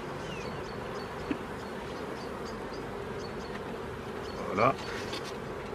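Honey bees buzzing steadily at an open spring hive, a dense continuous drone of many young nurse bees close by, with a brief spoken word and a short handling rustle near the end.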